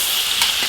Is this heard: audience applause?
no